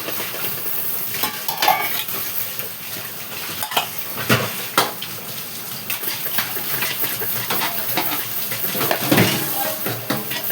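Food sizzling steadily in a pan in a home kitchen while a utensil scrapes and clinks against the metal in irregular strokes, close and fairly loud, with faint voices in the background.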